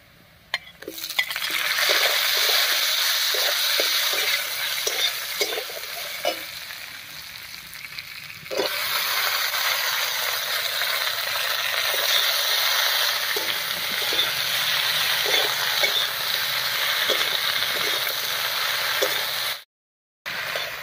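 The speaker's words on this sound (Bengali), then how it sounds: "ফোড়নের উপরে পেঁয়াজটা দিয়ে বেশ লাল লাল করে ভেজে নিয়েছি, এবারে কেটে রাখা আলু আর পুঁই শাকটা দেব।" Potatoes and Malabar spinach fry with browned onions in a pan for a Bengali fish curry, a loud steady sizzle broken by regular scraping and clinking of the stirring spoon, with a brief silent gap near the end.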